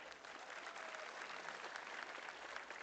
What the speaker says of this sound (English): A big round of applause for that performance